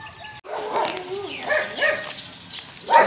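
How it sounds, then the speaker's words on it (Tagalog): A large dog tied up outdoors along a road barks repeatedly, its voice loud and close with a sharper bark near the end. "Laki ng aso. Takot pa naman ako sa aso. Ay. Laki ng aso, nakatali."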